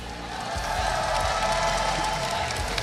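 A large esports crowd at the Honor of Kings Invitational semi-finals roars and cheers steadily throughout, a dense wash of voices and applause with no pauses or single voices standing out.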